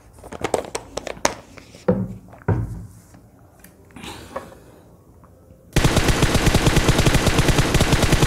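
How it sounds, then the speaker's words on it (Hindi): Gunfire in the battle royale game PUBG, a scattered run of sharp shots and rattles followed by a sustained, loud burst of rapid automatic fire that carries to the end. "टहलका की तरफ से यहाँ पे फायरिंग हो रही है"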